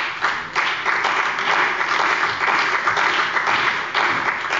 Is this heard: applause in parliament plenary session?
yes